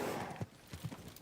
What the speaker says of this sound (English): Or just a random horse?